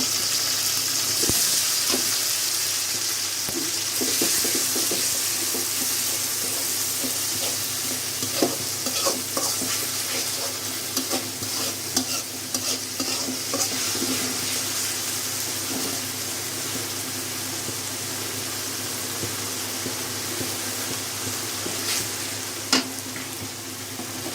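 Onion, tomato and garlic paste fry in a pan for a Bangladeshi bhuna with stinging catfish, giving a steady close sizzle. Spoon stirring and scraping come through at intervals, and no one speaks.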